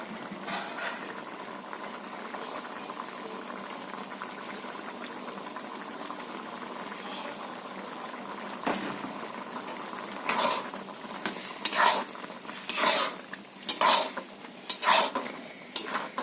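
Winter vegetable curry with chickpea dal bubbles and simmers in a pot, a steady low boil joined later by clanking stirs of a metal spoon against the pan in uneven bursts.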